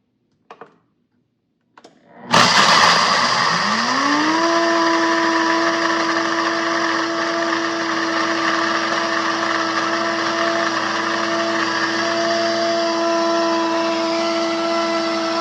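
A mixer grinder grinds a batch of coffee: a sudden start, then a loud, steady high whine that climbs briefly in pitch before holding level, with no talking.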